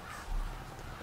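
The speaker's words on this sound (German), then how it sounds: "die Krähen hier." Crows cawing in the Call of Duty Black Ops 3 campaign, a brief caw rising once over a steady low game ambience.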